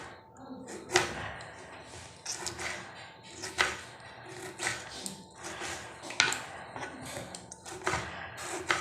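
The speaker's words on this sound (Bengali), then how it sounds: "টমেটোটাকেও কুচি কুচি করে কাটবো বন্ধুরা।" A knife chops a tomato finely on a board, giving a run of quick, sharp, irregular taps spread across the whole stretch, close and moderately loud, with no talking.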